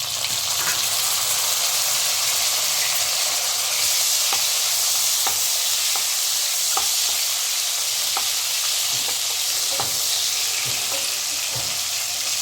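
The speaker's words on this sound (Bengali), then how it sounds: "এবার আমি এতে দিয়ে দেবো আমার ওই 2টো কেটে রাখা টমেটো" Chopped tomatoes go into potatoes frying in a pan for a fish-head cabbage dish, giving a loud continuous sizzle broken by brief scraping stirs at irregular intervals, with no talking.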